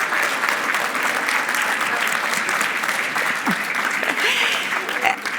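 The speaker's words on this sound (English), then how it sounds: "Clap for yourselves." An audience at a lecture on LGBTQ+ inclusion applauds, a dense sustained wash of clapping filling the room for several seconds, with a voice briefly audible over it.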